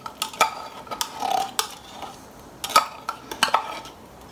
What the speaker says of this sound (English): I will also be using a spoon to make sure that I get everything out of the can